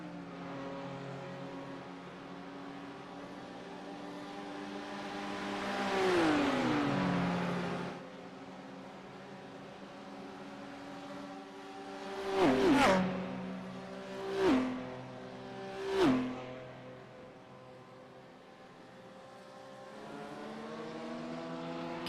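GT3 race cars in a racing video game at Bathurst roar down the straightaway: one engine climbs and fades, then three cars flash past in quick succession, each a sharp rising-and-falling whoosh, with steady engine drone between them.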